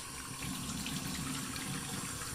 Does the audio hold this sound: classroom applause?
no